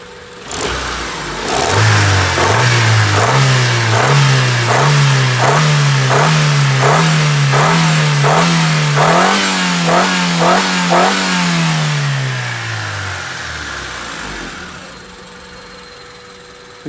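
A Honda 3-door car engine revs up loudly and holds a rising, throbbing roar for several seconds, then winds down and fades toward idle.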